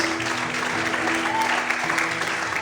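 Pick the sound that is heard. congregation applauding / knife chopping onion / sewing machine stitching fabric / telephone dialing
congregation applauding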